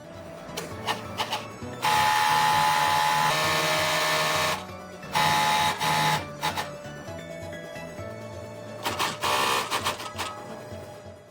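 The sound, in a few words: airflow sorting machine separating down and feathers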